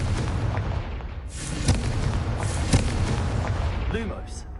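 Explosive Confringo spell blasts from the Hogwarts Legacy video game: two or three sharp booms burst out of a steady, dense game soundscape, with a brief whooshing flare near the end.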